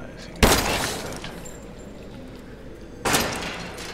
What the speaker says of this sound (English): I think I can shoot that.